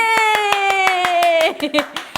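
Rhythmic group hand clapping at a trophy presentation during a cookery show, sharp, evenly spaced claps under a sustained chanting voice, close and fairly loud.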